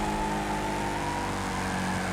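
Car engines in the demolition racing game Wreckfest drone steadily and loudly for a brief stretch, a continuous motor hum with no break.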